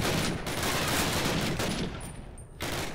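Dense, continuous gunfire from the Call of Duty video game, a steady roar of rapid shots and bursts filling the whole stretch, loud and sustained with a brief dip near the end.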